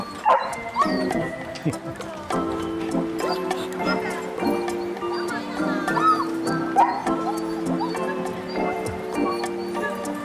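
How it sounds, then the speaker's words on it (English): Several dogs at a busy outdoor spot on the Outer Banks bark and whimper in short, repeated yips and whines, some close and some farther off, with people's voices mixed in. "There's lots of dogs here now."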